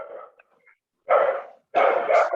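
A dog in a classroom barks in three bursts: a softer yelp first, then two loud, close barks separated by short silences.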